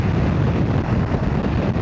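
Wind buffeting a microphone on open flat plains in the evening, a steady low rumbling roar with no pauses and no voices.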